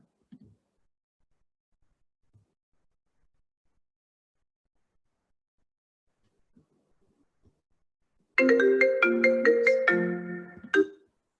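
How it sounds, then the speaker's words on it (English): A phone ringtone for an incoming call plays a short, loud melodic burst of a few seconds, close by, after a long near-silence with only faint clicks. "I got a phone call from somebody I didn't know."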